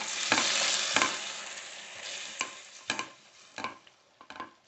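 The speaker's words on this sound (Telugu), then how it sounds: "ఒక స్పూన్ ఆయిల్ వేసుకోండి. పాలకూర వేసుకుందాం." Spinach dropped into hot oil with a loud burst of sizzling that slowly fades, broken by several spatula stirring scrapes in the pan, close up with no voices.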